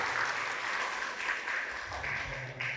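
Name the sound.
applause for Mbak Febrianti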